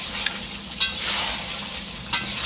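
Country chicken meat sautéing in a pan, giving a steady sizzling hiss with a couple of brief scraping stirs of the spoon, close and even, with no one talking.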